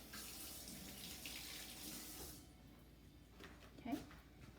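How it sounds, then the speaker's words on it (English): A kitchen tap runs while hands are rinsed, giving a faint, steady stream of water that shuts off about halfway through. A soft knock follows in the quiet room. "I'm going to rinse my hands quick"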